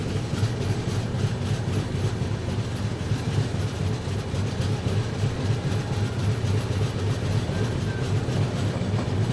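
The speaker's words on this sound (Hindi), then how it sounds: "धीमे धीमे स्किप कर रहे हैं हम लोग बल्लभगढ़ को।" Humsafar Express passenger train rolling slowly past Ballabhgarh station in India, a steady low rumble of wheels and carriages with faint rhythmic rail clatter, close and continuous with no talking.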